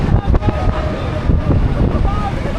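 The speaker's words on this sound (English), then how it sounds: "Woo, it's a bit windy." Strong wind buffeting the microphone on a ride at Hyde Park Winter Wonderland in London, a loud, continuous low rumble with gusty thumps throughout.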